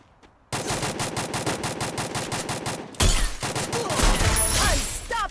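Heavy gunfire in the Free Fire video game, where an AWM sniper rifle is in use: a rapid run of evenly spaced loud shots, then a denser, harsher burst of overlapping shots and impacts, all close and continuous.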